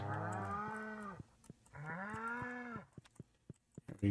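Two drawn-out cartoonish cow moos from the video game Stardew Valley, each about a second long and separated by a short pause, followed by soft clicks.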